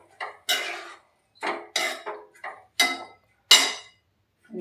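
Beetroot halwa being stirred with two spoonfuls of cream in a pan, a spoon scraping and clinking against the metal in about seven short, loud bursts separated by brief pauses.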